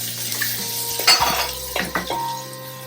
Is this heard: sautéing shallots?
yes